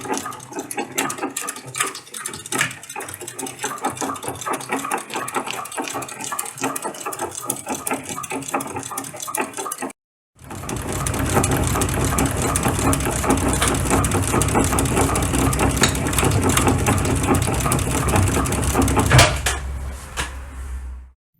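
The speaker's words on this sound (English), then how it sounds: "Now I'm going to sew up the sides of the bag." A vintage Singer 16-188 sewing machine runs steadily while stitching up the sides of a utility bag, a dense continuous mechanical whir that pauses briefly midway, then resumes louder with a low hum before stopping.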